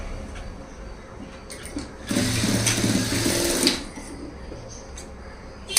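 A sewing machine whirs in a single loud burst of about a second and a half while stitching a blouse sleeve, framed by quieter handling noises.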